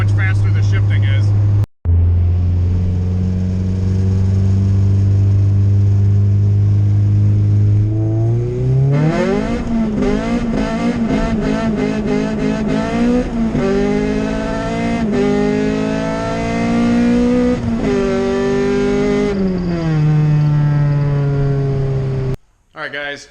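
A Honda B20 VTEC car with a hydraulic B-series transmission accelerates hard, engine note climbing through the revs with several quick gear shifts, loud and close from inside the car, with a voice talking over it.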